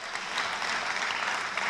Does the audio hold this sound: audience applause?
yes